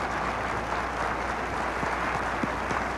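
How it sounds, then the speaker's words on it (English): Crowd applause at the 1989 Boston University commencement ceremony, a steady wash of clapping from a large outdoor audience held at an even level throughout, with no talk over it. "receiving the applause of the crowd"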